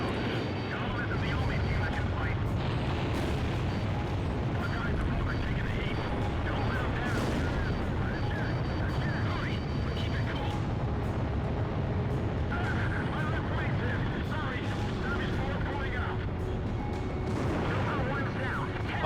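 Aircraft weapon fire in the combat flight game Ace Combat Zero, dense booming shots and explosions over a constant roaring jet engine drone, with someone talking throughout.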